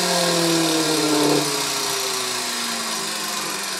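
A Hoover Senior 612 upright vacuum cleaner runs on carpet, giving a loud, steady motor drone close by whose pitch sags slightly partway through, with no talking.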